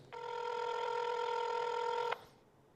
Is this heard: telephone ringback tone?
yes